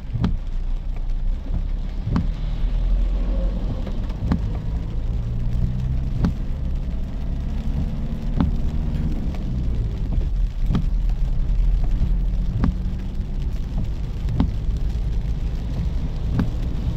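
Heavy rain drums on a moving car on the road into Santa Rita, heard from inside as a continuous patter over low engine and road rumble, with occasional louder knocks and no talking.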